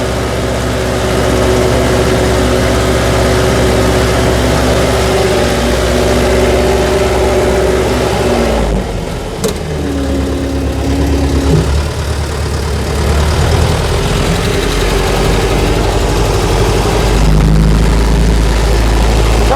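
A T-40AM tractor ploughing a field with a three-bottom PLN 3-35 plough gives off a loud, steady diesel drone that runs the whole time, with a brief dip and shift midway as the gear changes.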